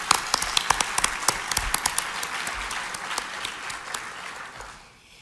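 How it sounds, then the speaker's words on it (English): A conference audience at the ISPI 50th Conference in Toronto gives a round of applause, many hands clapping in a brisk, fairly close burst that fades out near the end. "why don't we just give a round of applause to the members of the Emerging Professionals Committee"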